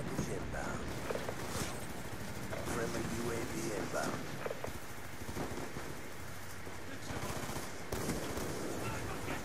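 SVU sniper rifle fire cracks out in a first-person shooter match, with repeated shots and rapid bursts of other gunfire under near-constant talk from a player.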